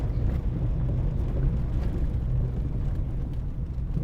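A car drives along a road in St. Thomas, its steady low rumble of engine and tyre noise continuing evenly throughout, with no talking heard.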